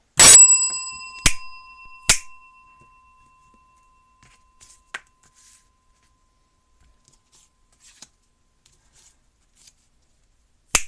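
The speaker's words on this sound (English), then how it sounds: "Ring the bell." A bell in a tabletop game of Inscryption is struck once, sharp and ringing near the start with a lingering metallic tone, followed by a few dull taps and soft handling clicks in near silence.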